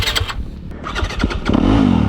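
A 2021 Yamaha YZ250F or Kawasaki KX250 four-stroke dirt bike engine being revved by twisting the throttle, a loud close burst of rising, rough mechanical roar.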